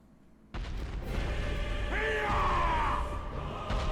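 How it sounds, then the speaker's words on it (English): A character's scream in the video game Dark Souls III bursts in abruptly, a loud drawn-out yell with a falling tone layered over rumbling game effects. "Oh, that's a good scream."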